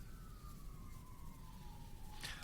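A siren sounding a long, steady descending wail over a low background rumble, with a brief bright burst of noise near the end.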